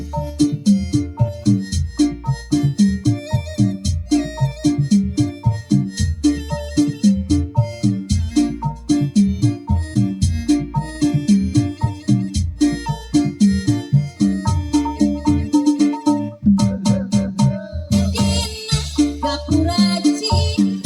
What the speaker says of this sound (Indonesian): Ini bunyi tip mobil tanpa ditambah dengan ampli mini.